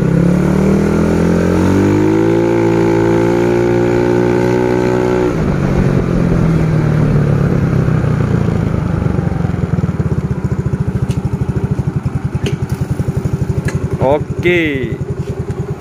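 A tuned motorcycle engine runs a loud test rev, pitch climbing and holding high before dropping back to a rough, throbbing idle, close and continuous, with a man's brief speech.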